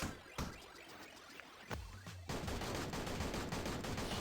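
Video game gunfire plays as a burst of rapid automatic shots with a dense rattling fusillade that fills the back half, fairly loud and continuous, with no talk.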